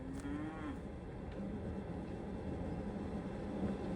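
Young calves moo in a farm setting, one drawn-out call near the start followed by fainter lowing over steady outdoor background noise, with no one talking.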